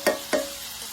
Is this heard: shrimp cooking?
yes